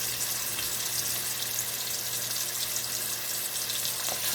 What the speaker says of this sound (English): the oil hot, so I'm gonna add in the oxtail in.